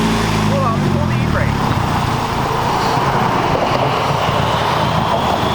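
Car doing an e-brake burnout with both wheels spinning on cracked, bulging tires: a loud, continuous roar of engine and tire noise fills the whole stretch, with voices talking over it.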